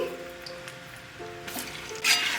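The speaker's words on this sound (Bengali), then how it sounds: "দেখুন আমি পালতুয়াগুলো লাল লাল করে ভেজে তুলছি" Sweet potato pantua balls deep-fry in hot oil with a steady, soft bubbling sizzle, swelling into brief brighter hissing bursts toward the end, heard close and without voices.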